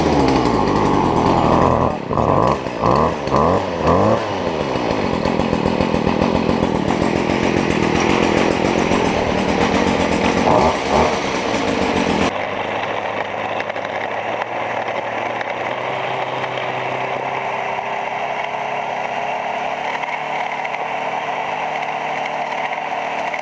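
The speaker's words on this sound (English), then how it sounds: "I will now start it by putting it on choke, priming it a few times, holding down the safety," A Stihl FC 56 C gas edger is pulled over a few times, fires up and revs loudly with a buzzing two-stroke whine, then settles into a steadier, quieter idle.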